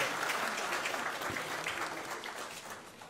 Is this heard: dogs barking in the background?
no